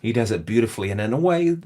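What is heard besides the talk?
None of the usual background noises is heard.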